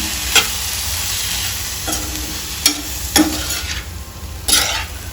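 Tomato pieces being stir-fried in a pan for broccoli fried rice: a steady sizzle with a few sharp scrapes and clinks of the spatula against the pan at irregular intervals, no voices.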